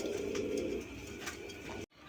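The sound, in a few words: pair of red Rasgolla pigeons cooing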